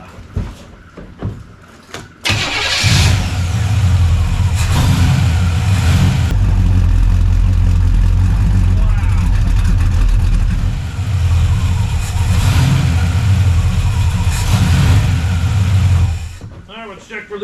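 A Blueprint crate engine in a 1971 Firebird fires up and runs, a loud steady idle with throttle blips rising and falling, close by, with a few rattling clicks before it catches.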